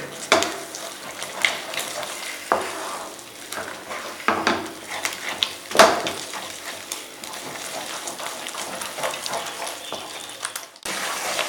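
Bombay halwa is stirred in a pan after ghee is added, with repeated scraping and clinking strokes over a low sizzle, close and busy with no talk.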